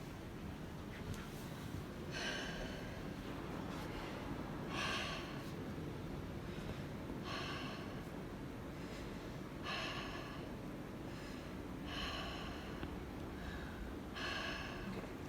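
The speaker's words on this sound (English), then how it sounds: "Just take a deep breath in and out for me through your mouth." Slow, deep breaths drawn in and out through the mouth during a health assessment, a steady series of soft, breathy rushes at a regular rhythm, faint and close over a quiet background hiss.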